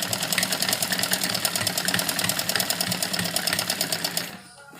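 A sewing machine stitching a heavy-size suit along marked fitting lines runs with a rapid, even mechanical rattle, close and steady, before stopping just before the end.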